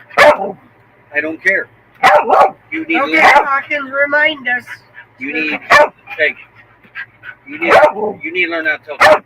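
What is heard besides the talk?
dog barking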